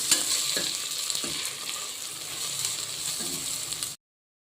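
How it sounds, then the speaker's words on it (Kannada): Ginger garlic paste frying in a pan, a steady close sizzle with soft scraping stirs near the start and again toward the end, no voices, before the sound cuts off abruptly. "ಶುಂಠಿ ಬೆಳ್ಳುಳ್ಳಿ ಪೇಸ್ಟ್ ಚೆನ್ನಾಗಿ ಫ್ರೈ ಆಗಿದೆ"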